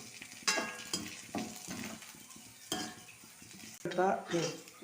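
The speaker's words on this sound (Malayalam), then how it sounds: "ഈ ഇലകൾ നന്നായിട്ട് മൂക്കണത് വരെ വെളിച്ചെണ്ണയിലിട്ട് ഇങ്ങനെ വറുത്തെടുക്കണം" Leaves crackle and sizzle in hot coconut oil, with bursts of stirring and metal scraping against the pan at irregular intervals, close by.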